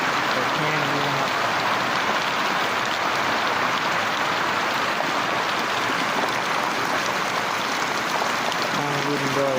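Rain falls in March, pouring in a steady, dense hiss that fills the whole clip, with brief faint voice murmurs near the start and the end.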